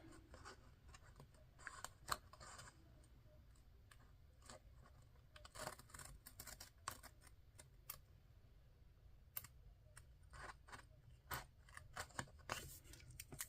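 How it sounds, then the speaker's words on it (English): Scissors snip through paper for a bullet journal planner in a steady run of quiet, crisp cuts, close by and faint, with no voices. "Cutting paper, y'all. Cutting paper."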